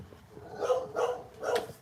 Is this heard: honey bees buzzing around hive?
no